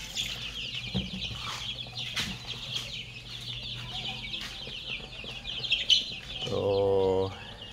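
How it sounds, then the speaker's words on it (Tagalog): Free-range F1 hybrid chickens in a backyard cluck and call close by, with scattered chirps and wing flaps. A louder rooster-like call comes near the end. "kuha ni siya nga manok"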